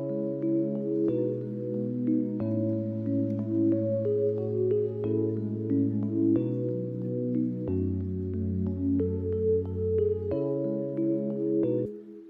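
Two Logic Pro X ePiano patches, the default and Modern Classic, layered together for a zouk-style track, sounding a steady run of chords with a fuller, richer tone that rings continuously without gaps until a short fade.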